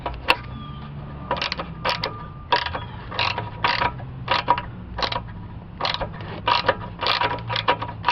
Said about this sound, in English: first we're going to remove these bolts here.